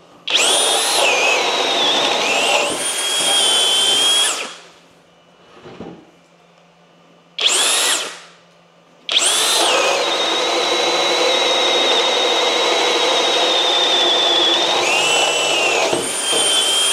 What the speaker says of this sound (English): I was pushing on the drill, just trying to get it to stall.